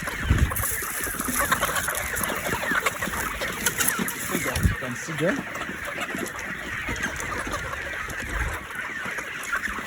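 A flock of chickens clucks and chatters continuously nearby while being fed pellets, a busy crowd of calls, with someone talking briefly over them.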